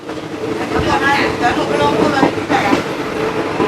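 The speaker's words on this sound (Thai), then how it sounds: "ก็รถไฟมาจากเชียงใหม่ มุ่งหน้าไปกรุงเทพนะครับ" A Thai passenger train from Chiang Mai to Bangkok rumbles steadily along the rails, with rhythmic wheel clatter and squeals, heard from inside alongside faint background voices.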